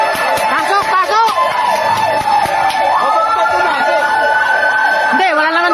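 A loud fire truck siren wails, rising and falling repeatedly nearby at a fire, with voices talking underneath it.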